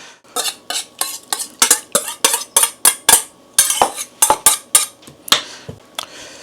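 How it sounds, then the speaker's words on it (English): Almond flour pancake batter being mixed in a bowl, a quick rhythmic series of clinking utensil strokes against the bowl, close and loud, about twenty beats with no talking. "This is where we mix the two together."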